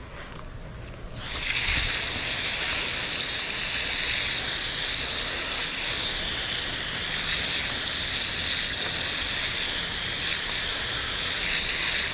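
Running tap water pours steadily over fish being rinsed for tacos, a constant hissing splash that starts abruptly and continues close and unbroken.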